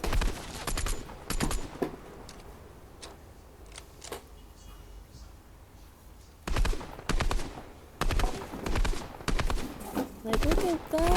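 Shotgun blasts in the Fortnite battle royale game, sharp bursts in quick clusters near the start and again in a rapid volley toward the end, separated by a quieter stretch with a player talking over the gameplay.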